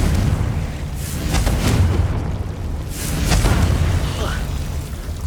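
Confringo fire spell blasts in Hogwarts Legacy, heard as a few loud rumbling booms and bursts that swell twice over a constant dense background roar, with no speech.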